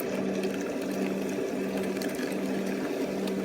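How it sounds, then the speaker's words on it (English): A Brookstone foot spa's air jets run on their lowest airflow setting, giving a soft, steady bubbling hum with faint watery gurgles, close and continuous. "This is the lowest airflow setting, and that's affecting the jets in the inside."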